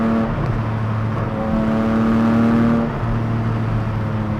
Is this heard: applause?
no